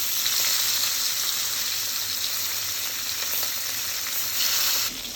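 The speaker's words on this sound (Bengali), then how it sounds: "এখন মাছগুলো এক পাশ ভাজা পর্যন্ত আমরা অপেক্ষা করবো। এক পাশ ভাজা হয়ে গেছে, এবার আমরা মাছটা উল্টিয়ে নেবো" Hilsa fish pieces frying in hot oil, a constant dense sizzle close up with faint scattered spatters, briefly louder near the end before dropping.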